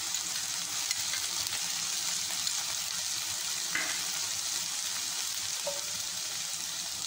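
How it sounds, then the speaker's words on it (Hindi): Chopped beans and carrots sautéing in hot oil for fried rice give a steady, dense sizzle with faint stirring scrapes throughout, close and continuous with no talking. "फ्लेम पे रखना है और कंटिन्यूसली सौते करते जाना है ताकि ये जले ना"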